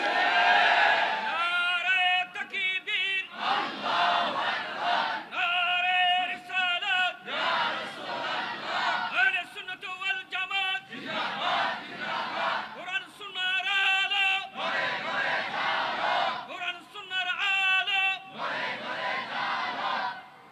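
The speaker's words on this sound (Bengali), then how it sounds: "তাকবীরের এই স্লোগান, নারায়ে রিসালাতের এই স্লোগান, নারায়ে গাউসিয়ার এই স্লোগান" A large crowd at a Bengali religious gathering loudly chants Takbir and other religious slogans in repeated call-and-response bursts, each roared phrase separated by short pauses.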